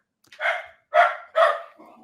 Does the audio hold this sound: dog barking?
yes